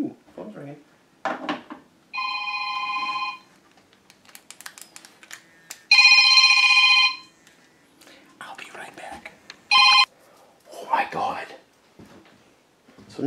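A phone rings inside an abandoned mansion in three bursts of electronic trilling, the middle one loudest, with hushed whispering and rustling in between.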